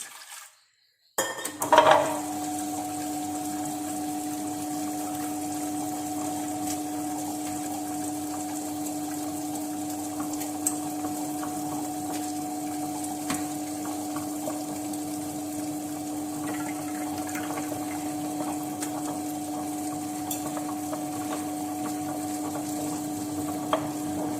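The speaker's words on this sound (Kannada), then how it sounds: "ಈಗ ನಾನು ಇದನ್ನು ಗ್ರೈಂಡರಿಗೆ ಹಾಕ್ತೇನೆ" An electric kitchen grinder runs steadily on soaked wheat rava and cardamom, a constant loud whirring hum that starts after a short clatter and continues without pause.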